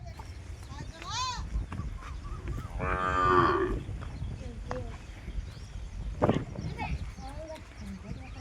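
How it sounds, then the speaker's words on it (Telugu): About ninety cows moo loudly on a farm, long drawn-out calls a few seconds apart, with people talking nearby over a low background rumble. "మొత్తం వెనుక తొంభై ఆవులు ఉన్నాయి ఇక్కడ"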